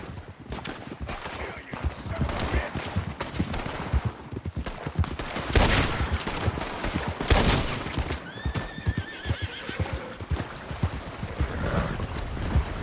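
Scattered gunshots in a horseback shootout in Red Dead Redemption 2, sharp cracks mixed with galloping clip-clop hooves and horse whinnies, loud and close, with little talk.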